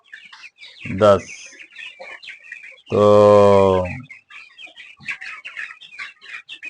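Chickens on a small poultry farm, with loud close clucks and a sustained squawking call standing out over scattered softer bird sounds while someone speaks.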